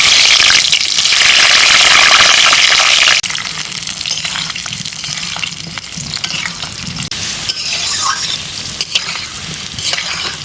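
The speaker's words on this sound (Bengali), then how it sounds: "তেল আমার গরম হয়ে গেছে, আমি আলুগুলো তেলের মধ্যে দিয়ে দিচ্ছি।" Potatoes dropped into hot mustard oil with five-spice seeds, a loud burst of sizzling at first, then calmer steady frying crackle with occasional stirring and clinks.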